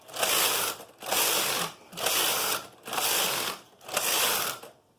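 A KnitKing bulky knitting machine carriage is pushed back and forth across the needle bed in a full-machine test, five steady mechanical whirring passes with brief pauses between, close and fairly loud with no talking.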